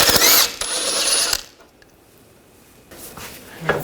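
An 18mm socket on a ratchet works the bottom nut off a rear lower outer ball joint of a 2000-2006 BMW X5, a loud close burst of ratcheting clicks, a quiet pause, then a few more.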